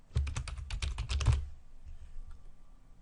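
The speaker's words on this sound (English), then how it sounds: "You can type in the first and last name." Rapid typing on a computer keyboard, a quick burst of about a dozen close, crisp key clicks lasting a second and a half, followed by faint quiet.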